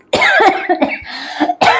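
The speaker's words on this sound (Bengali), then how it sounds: "কাশি উঠে গেল" A short run of loud, close coughs, several harsh bursts in quick succession.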